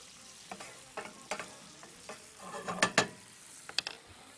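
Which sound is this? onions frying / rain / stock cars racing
onions frying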